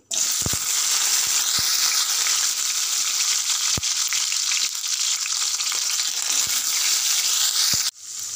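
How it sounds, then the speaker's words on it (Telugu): Eggplant pieces, soaked in salt water, sizzle steadily in hot oil in a pan, a loud continuous frying hiss broken by a few faint stirring knocks, with no talking. "ఇప్పుడు మళ్ళొక్క స్పూన్ ఆయిల్ వేసి, కట్ చేసి ఉప్పు నీళ్ళల్లో వేసి పెట్టుకున్న వంకాయ ముక్కలు వేయాలి."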